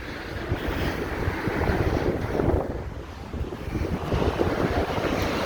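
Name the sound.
wind blowing on a riverside bridge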